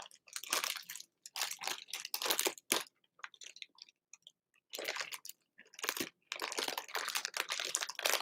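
Close, loud crunching and chewing of crunchy Doritos tortilla chips, coming in irregular bursts of crisp bites with short pauses between, with no talking over it.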